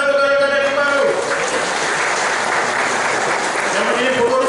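An audience at a PDI Perjuangan party branch meeting in Sambas claps steadily, a dense, loud wash of applause lasting several seconds while a voice speaks through it.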